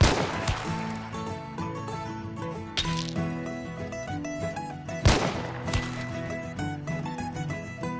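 Lamat carbine shots in Hunt: Showdown, three sharp, loud gunshots spaced a couple of seconds apart, each trailing into ringing echo over a tonal musical background.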